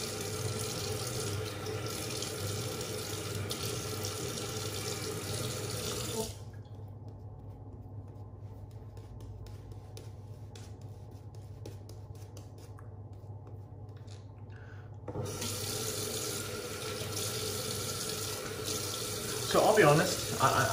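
Tap water runs into a sink during a wet shave lather session with a straight razor, a steady broadband rush that stops for several seconds in the middle and then resumes.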